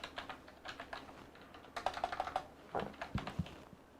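Quick, irregular keystrokes tapping on a computer keyboard, nearby and fairly quiet, with a few firmer clacks toward the end and no voices.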